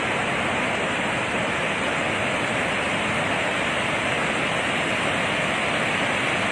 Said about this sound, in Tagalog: overflow na sa taas, kaya kailangan makawalan ng tubig yung Magat Dam